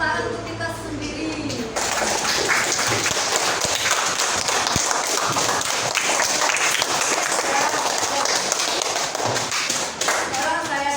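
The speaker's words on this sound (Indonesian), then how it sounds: "Kita tepuk tangan untuk kita sendiri." A classroom of students claps for themselves with dense, energetic hand clapping for about nine seconds, just after a teacher's voice at the start.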